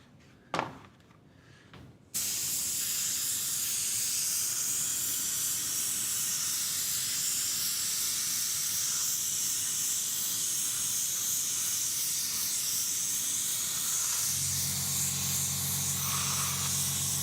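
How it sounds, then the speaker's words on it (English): An airbrush driven by a compressor sprays leather dye, starting abruptly after a moment of quiet into a loud, steady hiss, with a lower compressor hum joining near the end. "I use the compressor, and the compressor is fairly loud"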